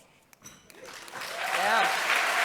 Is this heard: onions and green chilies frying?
no